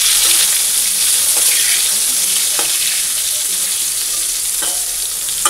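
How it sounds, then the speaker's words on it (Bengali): Pointed gourd slices fry in hot oil in a wok, making a strong, steady sizzle close up. A few faint clicks of stirring are spaced through it, with no speech. "পটল ভেজে ওর মধ্যে শাক ভেজে নেব"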